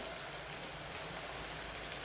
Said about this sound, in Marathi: पाऊस बाहेर चालू आहे